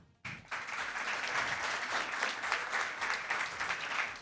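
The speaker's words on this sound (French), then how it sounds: "On applaudit." A theatre audience at a live comedy show bursts into sustained applause, starting abruptly and holding steady and loud throughout, a dense wash of many hands clapping.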